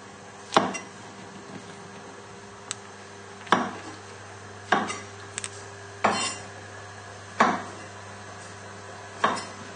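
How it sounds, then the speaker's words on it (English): Metal pans and kitchenware knocked and set down on a stove while cooking pork chops with mushrooms, six or so sharp clanks spaced a second or two apart over a quiet steady hum. "So the pan for the mushroom, just pop it on a nice medium heat."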